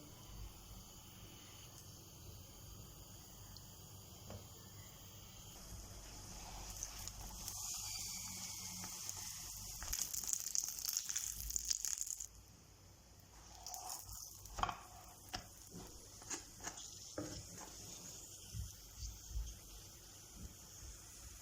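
Gözleme, a Turkish filled flatbread with herbs, sizzles in a hot pan with a quarter tea glass of oil, giving a faint, steady hiss with occasional soft pops and handling taps.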